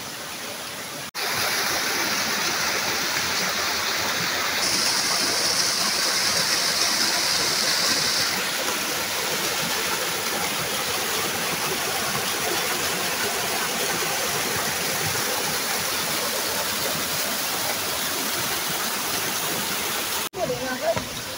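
Kaluktoban Falls, a tall waterfall in Lundag, Merida, Leyte, pours in a steady, loud broadband roar that holds unbroken for about twenty seconds, with a brief hissy layer partway through.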